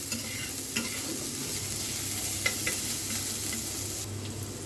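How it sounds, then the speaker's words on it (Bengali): Onions frying lightly in a pan, a continuous even sizzle held close and steady with faint occasional stirring scrapes, no voices. "প্রথমে হচ্ছে পেঁয়াজটাকে একটু হালকা করে ভেজে নিব।"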